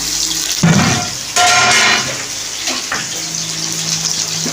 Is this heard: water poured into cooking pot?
yes